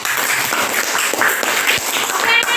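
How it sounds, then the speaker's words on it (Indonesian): A class of students gives a steady burst of applause in a classroom, with many hands clapping together densely and loudly for the whole short stretch. "Tepuk tangan."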